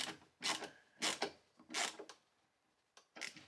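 Hand ratchet driving bolts on a Jeep JL fuel filler door: four short bursts of quiet clicking and rasping, close and faint, with gaps of silence between them.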